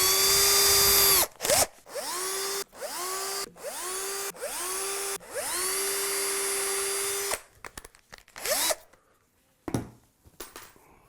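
A power drill whirs in several short bursts while drilling pickguard screw holes on a guitar kit, each spinning up in pitch and cutting off, followed by a few brief quieter revs.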